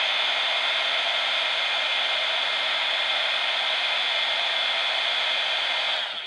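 Hot air blower heating an LCD screen, a loud, steady, hair-dryer-like rushing roar that holds constant throughout and tapers at the very end, with no talking.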